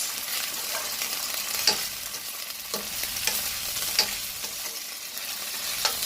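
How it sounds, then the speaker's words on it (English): Sweet potato in jerk sauce with white onion bubbling in a pot, a continuous soft sizzle and simmer broken by a few sharp spoon taps and stirring scrapes, heard alone without speech. "Let it simmer for a little bit."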